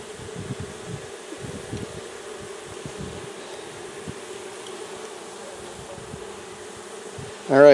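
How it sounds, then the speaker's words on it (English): Honey bees buzz steadily and close by as they are dumped out of a jar during a sugar roll mite check, ending in a louder, sharper buzz. "And then you just dump the bees out."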